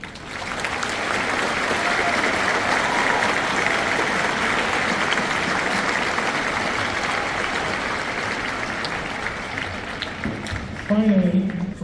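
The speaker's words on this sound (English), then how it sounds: "Can you please join me in applause and recognition to all of these people?" Audience at a high school graduation ceremony gives a long, steady round of applause, thick and even before trailing off as a voice returns at the end.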